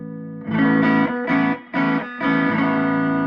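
Electric guitar chords strummed in short bursts with gaps between, bright and slightly crunchy tone from the neck single-coil pickup, played close without any talking.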